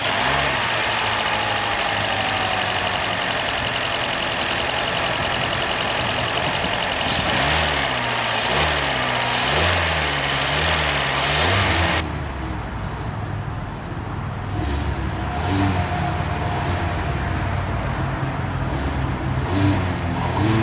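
A 2023 Hyundai Elantra Limited's 2.0-liter four-cylinder engine runs at a loud, steady idle, with a broadband rush and a brief rise in revs partway through.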